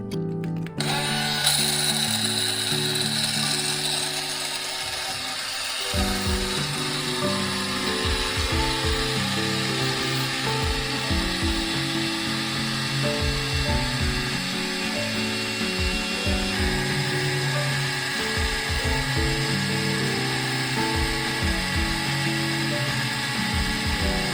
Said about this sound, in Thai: จะทำการบด โดยใช้เครื่องปั่นวิตาเมอร์นะคะ